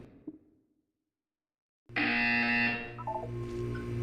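A loud, steady electronic buzzer in the video game Portal 2: Community Edition switches on abruptly after a stretch of silence and holds with a harsh tonal drone.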